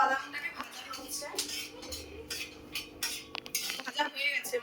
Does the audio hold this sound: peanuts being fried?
yes